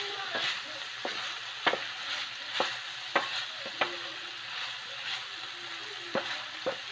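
Vegetables with a little meat being stirred in a pan over steady faint sizzling, with repeated light scraping clicks of the utensil at an irregular, unhurried rhythm.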